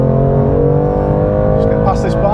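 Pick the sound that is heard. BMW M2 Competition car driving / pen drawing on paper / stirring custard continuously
BMW M2 Competition car driving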